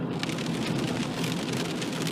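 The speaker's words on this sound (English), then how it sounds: "Rain's picking up." Rain pelts steadily on a car during a night drive on winding roads toward Crescent City, California, a dense continuous patter on the roof and glass with no voices.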